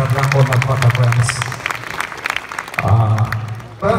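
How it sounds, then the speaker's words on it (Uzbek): An audience at a film premiere applauds for the film's producer, dense clapping filling the room while someone talks over it on a microphone. "Chiroyli qarsaklar bilan qo'llab-quvvatlab qo'yamiz."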